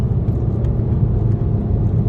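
A car passes very close on the road, a loud continuous low rumble and whir of tyres and engine filling the whole moment.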